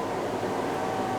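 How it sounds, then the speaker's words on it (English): A kitchen extractor fan above the hob runs with a steady, close whooshing hum and a faint tonal whine, holding an even level throughout with no voices. "The extract fan above the hob"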